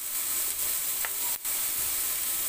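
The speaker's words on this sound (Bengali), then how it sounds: "গাজরটা দিয়ে নেড়ে চেড়ে দিয়ে দিব সয়া সস।" Garlic and carrots stir-frying for fried rice as soy sauce goes in, a steady close hiss of frying with a brief scrape and a momentary dip in the sizzle.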